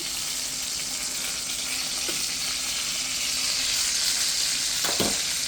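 Pork chops sizzle steadily in a pan after being flipped, a continuous close frying hiss with a brief utensil scrape near the end.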